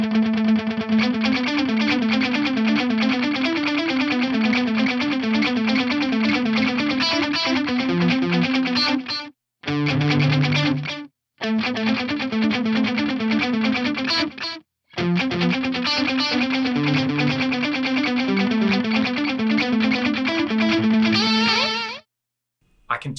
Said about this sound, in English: The opposite effect though is having a gated delay. So you only hear the delay when you're playing.